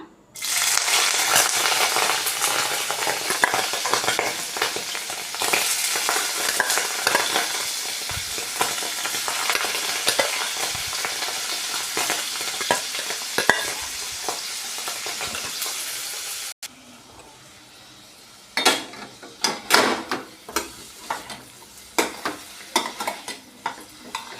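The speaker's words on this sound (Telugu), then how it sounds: "ఇలాగా తీసేసి ఈ కొంచెం ఆయిల్లో వేపుకుందాం" Soaked ingredients, pulled from hot water and dropped into a little oil for a paneer curry, fry with a dense, steady crackle and scraping stirs, then break into quieter, sporadic sizzles and clinks.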